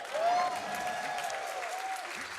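Applause and cheering from a live crowd at a charity speedrun marathon event, sustained clapping throughout with a sung or whistled tone layered over the top.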